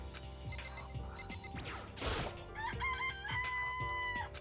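A chicken clucks and crows in the video game Danganronpa, game sound effects with a rooster call and clucking over a steady music bed, alongside bright chiming tones, with no talking.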